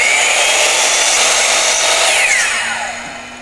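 A power saw cuts through a wooden board for a mirror frame, its loud, steady whine running close and alone for about three seconds before easing off at the end.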